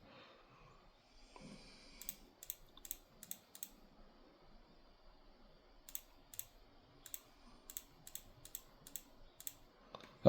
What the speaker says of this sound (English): Just gonna click a few random ones here.